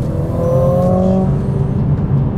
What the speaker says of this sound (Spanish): yo activé el exhausto, o sea, que tuviera un sonido mucho más deportivo